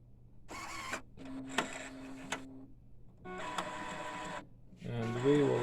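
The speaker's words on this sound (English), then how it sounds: "when I press it and hold it, the printer will automatically start the first filling of the dampers or the system." An Epson L1800 printer converted for DTF runs its first ink fill of the dampers, whirring and clattering in mechanical bursts separated by short pauses, fairly close and moderately quiet.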